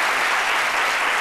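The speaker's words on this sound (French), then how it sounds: "Applaudissez." Studio audience applause on a midday talk show, brief, dense and loud clapping, steady from start to finish with no speech over it.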